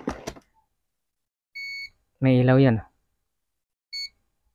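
Short electronic buzzer beeps from an Allan timer board under repair, two brief bursts spaced apart, with someone speaking briefly between them.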